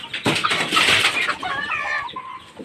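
Chickens clucking up close at a home in Tacloban, a loud run of clucks and squawks with a brief flutter of wings, no one speaking.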